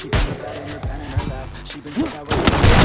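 Free Fire gunfire, M8 rifle included, rings out in rapid bursts of sharp cracks through the clip, with excited voices talking over the shots.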